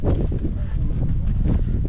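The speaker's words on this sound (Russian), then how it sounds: "Ветер дует очень сильно, но ничего." Strong wind buffeting the microphone in a constant low roar, loud and close, with no clear pauses.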